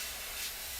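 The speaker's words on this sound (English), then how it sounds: "One of the things that's cool about this airbrush is you can push it down lightly" An airbrush sprays paint in a steady, continuous hiss that stays even and close for a brief moment, with no voices.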